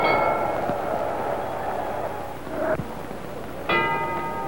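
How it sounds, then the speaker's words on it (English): A boxing ring bell rings to end round one of a 1964 fight at Madison Square Garden, New York: two or three clear metallic dings over a quiet crowd murmur. "There's the bell."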